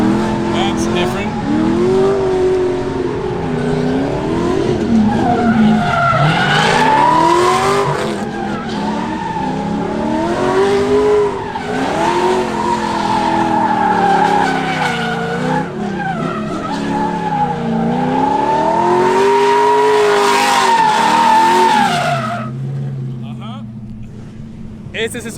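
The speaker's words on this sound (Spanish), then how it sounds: "Este es el sonido del motor de ese Supra" Toyota Supra drift car with an LS V8 engine at a drift championship, its engine wailing and revving hard with tire squeal and skidding throughout, loud and close, with voices mixed in.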